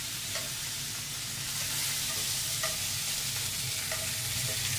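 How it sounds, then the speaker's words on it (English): Boulder sausage links frying in a pan give a steady, moderately quiet sizzle as they are flipped, with a few soft clicks from the utensil and no talking. "Let's start flipping our sausages."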